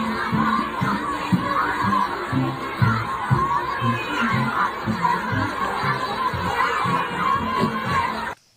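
Young children cheer in a recorded crowd, a steady wash of excited voices, shouts and laughter holding at a fairly loud level throughout, with a rhythmic low pulse beneath the chatter.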